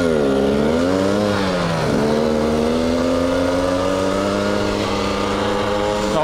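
Two-stroke enduro motorcycle, a GR8 300 or KTM EXC 300 TPI, screams at full throttle close by, its pitch climbing, dipping at a gear change around two seconds, then holding high and steady.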